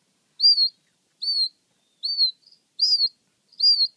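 Button quail giving five short, high chirps at an even pace, clear and close against silence.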